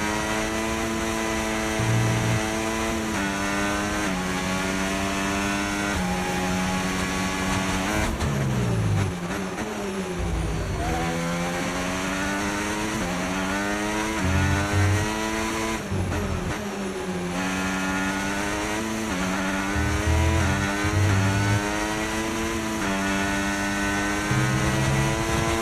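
Whining F1 race car engines from the F1 25 video game scream continuously, with rising and falling gear shifts and overlapping engine notes as cars close in and overtake, loud and close throughout.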